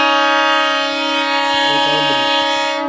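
A loud, sustained train horn blares steadily over the low rumble of a departing passenger train at Needamangalam railway station, close by, with no voices.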